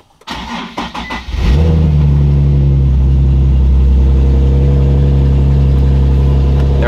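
A 2013 Nissan 370Z starts just after a fuel pump replacement. The starter cranks briefly, then the engine catches with a loud, close roar and settles into a steady, rumbling idle.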